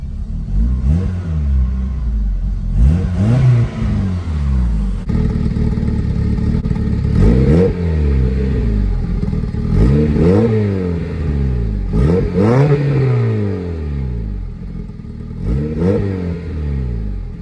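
A K-swapped Honda Civic engine settles into a quiet, even idle, then blips through repeated sharp revs that rise and fall at intervals, close up with no talking.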